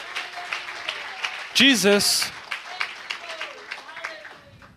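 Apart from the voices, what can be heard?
congregation applauding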